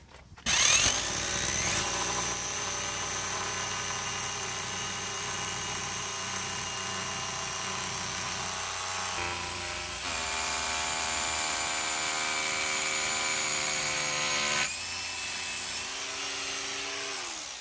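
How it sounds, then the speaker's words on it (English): An SDS drill whines loudly and continuously up close, its pitch dropping and shifting a couple of times as the bit bites into material. "Let the drill do the work as well on the SDS and the impact driver."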